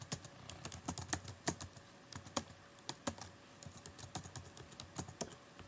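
Quiet, rapid typing on a computer keyboard sounds as irregular bursts of light key clicks, close and soft, with a faint steady hum underneath and no talk.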